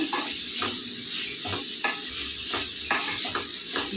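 Spiny gourd curry frying in oil in a pan, stirred by a utensil: a steady broadband sizzle runs throughout, broken by regular soft scraping strokes roughly every half second, close and alone without talk.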